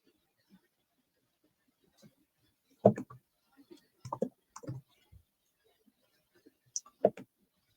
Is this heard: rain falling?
no